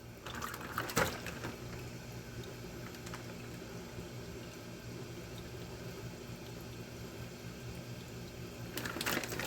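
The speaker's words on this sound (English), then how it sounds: "Run water until it's just over the fillets." Tap water runs steadily over redfish and speckled trout fillets in salted water, a constant close rushing pour with a couple of brief clatters at the start and end.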